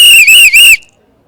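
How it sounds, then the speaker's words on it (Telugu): Loud shrill whistling in a movie theater, one piercing warbling blast broken by two brief dips, then cutting off abruptly into near silence. "ఇది చూడదు విజిల్, థియేటర్ మొత్తం విజిలే"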